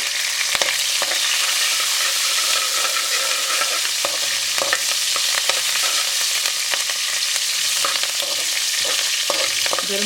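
Fenugreek seeds, cumin seeds, black cardamom and green chillies sizzle steadily in hot oil for an okra do pyaza, a dense continuous frying crackle with scattered pops and occasional stirring, close and loud with no voices.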